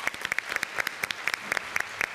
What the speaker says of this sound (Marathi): टाळ्या वाजल्या.